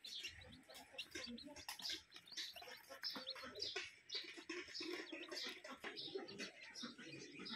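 A flock of brooding chicks chirps and peeps continuously, with soft pecking taps mixed in. The sound is faint and busy, and someone speaks quietly over it.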